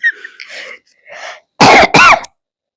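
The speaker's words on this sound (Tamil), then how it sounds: "மைக்கு கிட்ட இருமுனா காது அத்துரும்" Two loud, harsh coughs close to the microphone, one right after the other, following a few soft murmurs and breaths at a distance.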